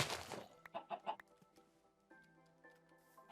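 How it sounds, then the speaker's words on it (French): Minecraft chicken clucking in a short burst of several rhythmic clucks, clear and close, after a brief noisy rustle at the start. "Oh là là, mais quel débile ce poulet"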